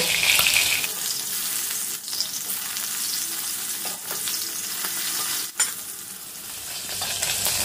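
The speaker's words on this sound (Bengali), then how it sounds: "মাছের একটা সাইড ভাজা হয়ে গেছে, আর একটা সাইড আমি খুন্তির সাহায্যে আস্তে আস্তে" Rui fish fries in hot oil while a spatula turns the pieces, giving a steady close sizzle with soft scraping and a sharp clink of the utensil near the middle, with no voices.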